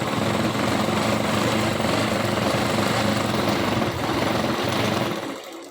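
A sewing machine stitching the seams of a salwar runs continuously with a steady mechanical whir and rattle, close and even, slowing to a stop at the very end.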